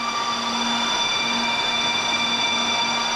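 A Jasminer X crypto miner runs steadily, its fans producing a constant loud, whiny drone with several high-pitched tonal whines held over a broad rushing hiss, unbroken and close.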